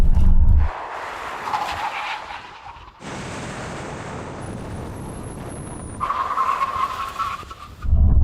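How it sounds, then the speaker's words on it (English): Audi RS cars brake hard in a brake test, giving a sustained broadband tire skid and squeal for several seconds between loud engine bursts, close and intense, with no voices. "let's do a brake test"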